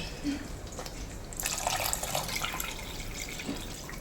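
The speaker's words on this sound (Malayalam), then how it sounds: "ഇനി നമുക്ക് ഇത്തിരി വെള്ളം ഒഴിച്ചു കൊടുക്കാം" Water pours and splashes into a pan of simmering Kerala fenugreek fish curry for several seconds, a steady rushing gush following a quieter moment, close and fairly soft.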